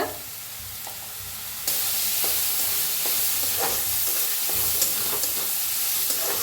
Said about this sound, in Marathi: चांगलं असं भाजून घ्यायचे तेलाचं चांगला कांदा भाजला आहे